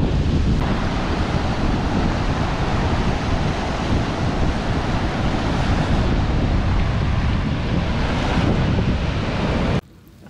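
Rough sea surf breaking on the shore, a loud continuous roar with wind buffeting the microphone throughout, cutting off abruptly near the end.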